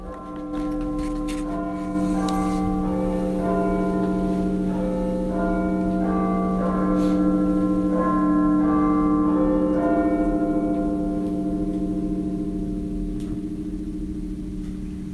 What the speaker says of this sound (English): And Maggie has asked us to play the chimes of Big Ben now for Peggy.